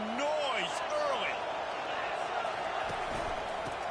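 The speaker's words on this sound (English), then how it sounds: "This crowd bringing the energy and noise early." Stadium crowd noise in the College Football 25 video game: a broad, constant roar of a large crowd with whistling and cheering swells, heard alongside announcer-style talk.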